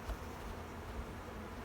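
Honey bees buzz at a hive during a spring cleanup, a soft, steady, diffuse hum with no speech over it.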